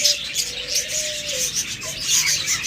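Lovebirds at a bird sale chirp in rapid, bright, overlapping calls, close and fairly loud, with a couple of longer whistled notes.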